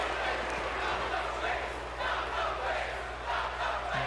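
Wrestling arena crowd at a televised SmackDown show chanting in a steady rhythmic swell, a dense continuous roar of many voices with repeated chant pulses, heard at a distance beneath the broadcast.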